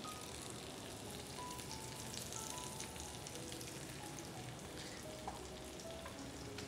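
Dates fry in melted butter in a pan for Iraqi kleicha, a faint even sizzle and crackle running throughout with no talk.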